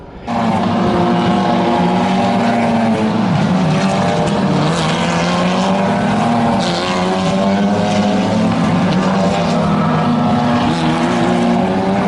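Formula 4 race cars scream past during qualifying near a hairpin at the Formula 1 American Grand Prix circuit, a loud, continuous, close engine roar with shifting pitch that fills the whole stretch.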